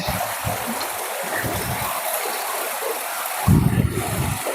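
A river stream runs through a forest with a steady, close rush of flowing water, broken by a few low thumps and a louder splash near the end.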